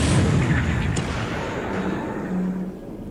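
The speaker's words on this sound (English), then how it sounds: "So, second torpedo hit already." A torpedo strikes a ship in the video game War in the Pacific, heard as a heavy low boom that rumbles and fades over a few seconds.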